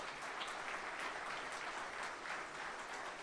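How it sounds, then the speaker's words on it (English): Soft, distant applause from a crowd at a high school coaches association awards ceremony honoring Hall of Fame inductees, a steady even patter of clapping without talk. "Big round of applause, ladies and gentlemen."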